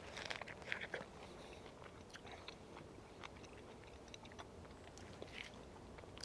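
Someone bites into and chews a satsuma-lemon hybrid fruit, peel and flesh together, with quiet, close, wet crunching and scattered bites over a soft background hiss.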